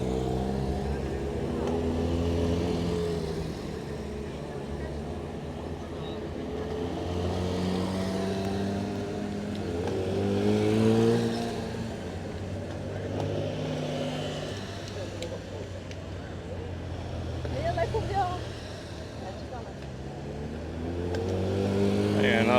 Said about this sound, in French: On a un petit convoi de Porsche qui arrive là.